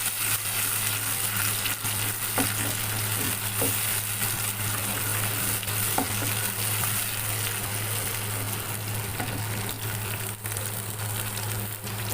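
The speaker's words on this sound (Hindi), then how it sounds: "फ्लेम की लो करते हैं, इसमें भुनाई करें।" Taro (arbi) masala fries and is stirred in a pan over a low flame, with a continuous even sizzle, occasional scraping clicks and a steady low hum.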